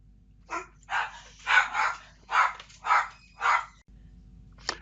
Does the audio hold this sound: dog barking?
yes